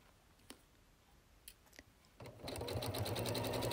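A domestic sewing machine stitches a seam through wadding for a fabric storage pot, starting after a few soft clicks and then running in a fast, steady rhythmic whir close up.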